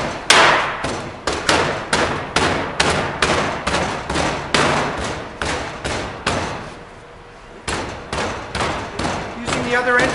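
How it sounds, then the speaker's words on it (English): A packer ramming sand tight into a casting flask around a pattern, repeated loud thumping blows in a steady rhythm, close by, with a short pause midway before the pounding resumes. "he's using this packer in order to get the sand tight."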